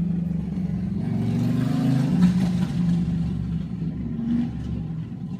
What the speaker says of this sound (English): Okay, motorcycle.